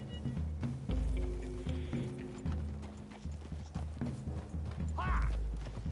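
Hooves clop steadily as horses walk through trees, with creaking tack and low rumbling underneath; a brief voice-like sound appears near the end.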